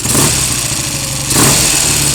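A Triumph pre-unit Bonneville T120R motorcycle, in for recommissioning, runs its engine in a steady, close, loud idle with a brief swell of revs partway through, no voices.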